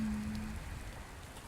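Rain falls on a rainy night as a soft, steady patter and wash, faint and continuous for a brief moment with no voices.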